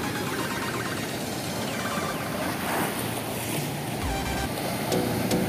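Strong ocean waves roll and crash steadily onto a beach in Surigao del Sur, a loud, continuous surf roar with wind buffeting the microphone and no voices.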